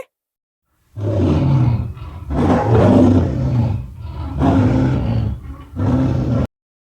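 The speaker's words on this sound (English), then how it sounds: "Hear that little roar?" Lion roaring at a zoo, four loud deep roars in a row separated by short silent gaps, close and clear with no talking.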